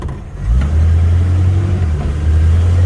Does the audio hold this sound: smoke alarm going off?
no